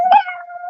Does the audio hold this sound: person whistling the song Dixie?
no